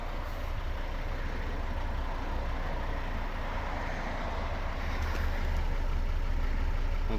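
A 2011 Volvo V60 with a 2.0 D4 diesel engine, automatic gearbox and HEICO Sportiv kit runs steadily at close range, a constant low rumble with no voices over it.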